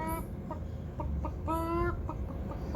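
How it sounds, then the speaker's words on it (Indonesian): A rooster clucks nearby in a series of short, throaty calls with a longer drawn-out cluck in the middle, standing out against a constant background hum. "Dan di sini masih ada standby ayam jago"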